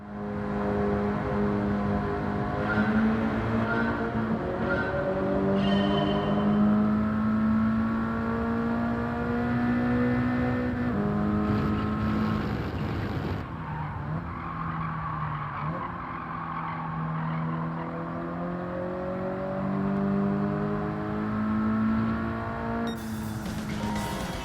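A Mitsubishi Lancer Evolution in Gran Turismo 7 races toward Hell Corner at Mount Panorama. The game engine note rises and falls steadily through gear changes and throttle, and tires squeal and skid through the bends, with no one talking.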